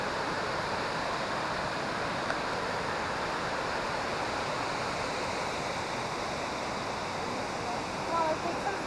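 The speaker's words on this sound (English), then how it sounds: "We made it to the waterfalls." Waterfalls at Krka National Park in Croatia give a steady, broad rushing roar of falling water, constant and moderately loud throughout, with faint human sounds near the end.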